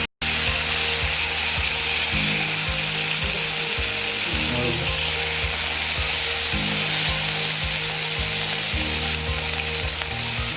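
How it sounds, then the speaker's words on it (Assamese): Washed crabs fry loudly in plenty of hot oil in a kadai, giving a dense, continuous sizzle and crackle with occasional stirring scrapes underneath. "ভালদৰে ভাজি ল'ম।"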